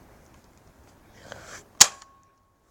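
A single sharp pop of a toy nerf gun firing, close and loud after a brief rustle of handling, then quiet.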